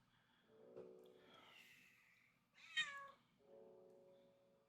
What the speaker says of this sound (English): At this point, I'm pretty sure everybody can hear my cat now.